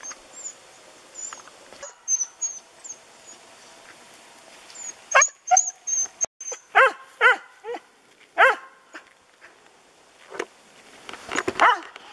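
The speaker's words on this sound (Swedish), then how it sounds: "det där är det längsta när hunden har skällt på en fågel någon gång" A hunting dog on a wilderness hunt barks at a bird: a quiet stretch of bird chirps, then a steady run of loud, evenly spaced barks from moderate distance over the last seven seconds, with no talk.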